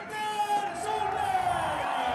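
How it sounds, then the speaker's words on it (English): A rallycross crowd in Hell, Norway, cheers and whoops at the final podium. The roar is steady and distant, with a loudspeaker voice talking over it. "lovely reaction from the crowd too"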